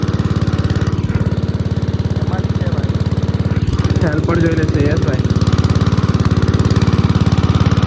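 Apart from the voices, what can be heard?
farm machine pumping water through a pipe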